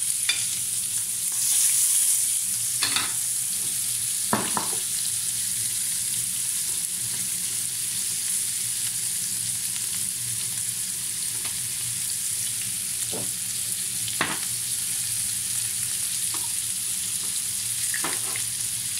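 Chopped onions fry in hot oil with a knob of butter, a steady loud sizzle running throughout with a few scattered clinks and stirring scrapes, no voices.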